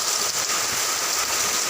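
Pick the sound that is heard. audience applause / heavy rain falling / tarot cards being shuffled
heavy rain falling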